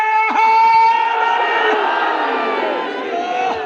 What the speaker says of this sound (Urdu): ہر پاسوں نعرے ہاتھ بلند کر کے نعرہ